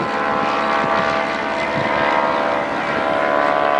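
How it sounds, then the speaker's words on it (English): A reproduction 1916 Sopwith Pup biplane's authentic World War I rotary engine drones loudly and steadily overhead, a constant buzzing roar with no talking. "The 1916 Southwest Pup is a reproduction airplane powered by an authentic World War I vintage Marone rotary engine"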